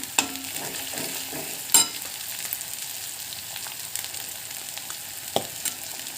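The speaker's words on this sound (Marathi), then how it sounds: "दहा मिनिट झाले आपल्याला फ्राय करून छान बघा असं लालसर झालं तेल सुटलं आहे" Masala fries in oil with curry leaves, a soft steady sizzle broken by occasional sharp clicks and scrapes of a spoon against the pan, without any talking.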